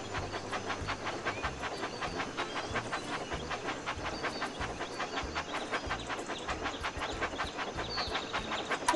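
Steam train engine racing along a track in a Thomas & Friends video game, a steady rhythmic chuffing with hiss running loud and continuous throughout, over a constant musical backing.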